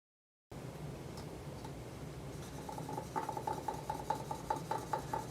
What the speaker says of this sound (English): So I'm going to just quick color this